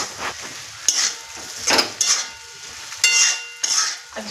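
Stuffed bitter gourds frying in oil, with bursts of bright crackling sizzle and metal spatula clatter against the pan as they are turned, close and intermittent, no talk.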